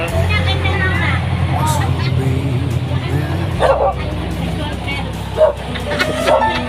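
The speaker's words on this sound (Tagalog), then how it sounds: "mga aso" Dogs bark in short bursts at a middle distance while people chatter nearby and traffic hums steadily underneath.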